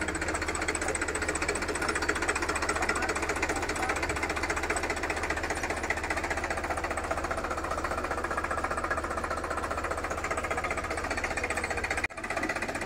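A Sonalika Tiger 50 tractor drives a PTO-powered onion transplanting machine, running steadily with a rapid, rattling, knocking engine drone, loud and continuous throughout.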